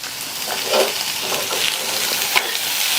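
Cooked green gram with chillies stirred through hot oil in a pan, a steady low sizzle with soft scraping of the spoon running continuously, close and moderately loud.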